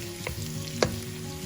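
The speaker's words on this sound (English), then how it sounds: "All of these items that I'm frying at this point of time will basically go into making the paste for the curry." Spices and coconut fry in a pan for a Chettinad curry paste, giving a steady low sizzle with a light stir or clink near the middle, close and quiet with no talk.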